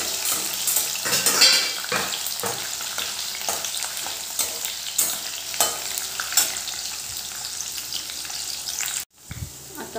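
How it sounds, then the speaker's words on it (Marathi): Green chilies and garlic frying in hot oil in a pan, a steady loud sizzle with frequent scraping stirs and utensil clinks against the pot, no talking. "लसूण छान तेलात हे झालं तर आपण मिरची टाकणार आहे."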